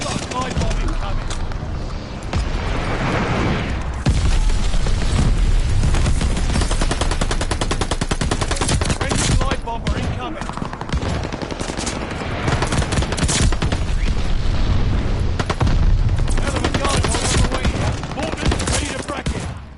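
Dense mortar barrage and rapid gunfire from the WWII shooter Call of Duty: Vanguard, with continuous loud explosions and automatic fire layered over game audio and occasional voice lines.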